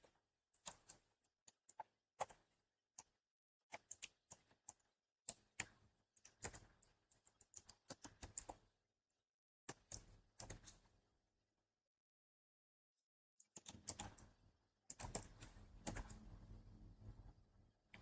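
Quiet computer keyboard typing as a command is entered at a command prompt, with bursts of rapid key clicks, brief pauses, and a heavier cluster of keystrokes toward the end.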